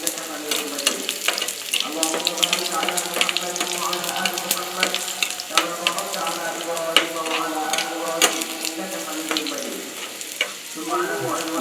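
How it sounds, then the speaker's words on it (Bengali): Garlic cloves fry in a hot pan for a Bengali tomato bharta, a busy continuous sizzle broken by scraping stirs and clinks, loud and close throughout. "রসুনগুলো একটু ভেজে নিব।"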